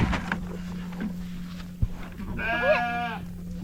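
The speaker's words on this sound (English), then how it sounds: "all the sheep are gathering around me like they want some" A sheep bleats once with a wavering, nasal call partway through, moderately close, over a steady low hum and some rustling in a pen where a flock gathers around a person.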